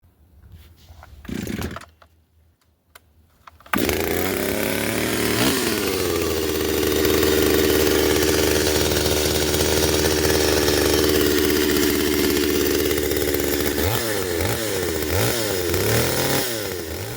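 A Holzfforma G028 two-stroke chainsaw engine, freshly ported and not yet tuned, starts after brief quiet, then runs steadily at a loud, buzzing idle while warming up, with a few rev blips near the end.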